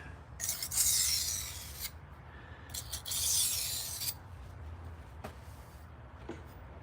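A knife blade drawn across a sharpening surface during deburring after sharpening: two long hissing rasping strokes close by, followed by quieter scrapes and faint clicks.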